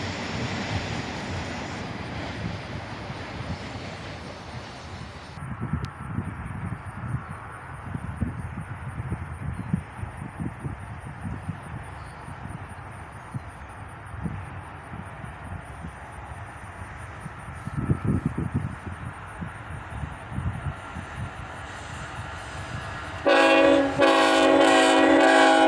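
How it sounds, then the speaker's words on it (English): A CSX Autorack freight train rolls past a bridge with a steady rumble and wheel noise, and near the end a loud sustained multi-tone horn salute blares out. "another epic horn salute from the engineer here, as this CSX Autorack train comes into"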